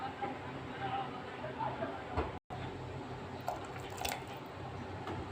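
Steady liquid splashing and squishing as cooking water from boiled beans pours into a pot, close and continuous, with someone talking over it.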